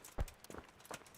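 Horse hooves clip-clop in a video game, a few soft, uneven hoof beats at moderate distance with no talking over them.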